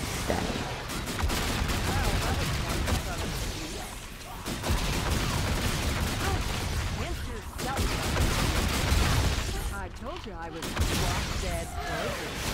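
Rapid gunfire crackles continuously through a first-person shooter match, loud and dense, with bursts layered over one another and voices talking underneath.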